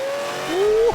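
A single engine rev from a 700-horsepower Whipple-supercharged Ford Coyote 5-liter V8 in an F-150 Lobo truck, climbing steadily in pitch over about a second, loud and close, ending in a sharp burst.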